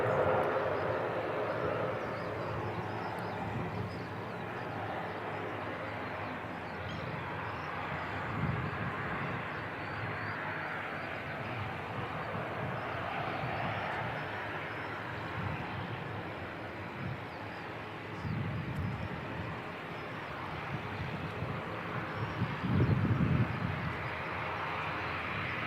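A Dash 8 turboprop airliner departs Christchurch Airport bound for Wellington, its steady engine drone filling the air at a distance, broad and sustained with a slight swell near the end.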